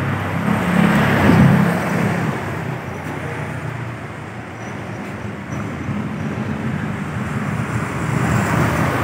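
Steady roadside traffic on the Bombay-Goa highway near a mechanic's garage, a continuous broadband rumble of passing vehicles with a louder swell near the start and again at the end, no talk.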